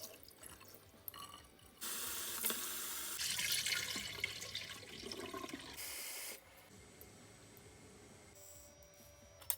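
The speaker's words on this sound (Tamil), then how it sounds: "இதுக்கு முதல்ல தினை அரிசியை கழுவி ஒரு 2 மணிக்கு ஊற வைப்போம்." Millet rice being washed in a sink, with running tap water that swells into a steady rushing pour for several seconds before cutting off, followed by faint drips and handling sounds.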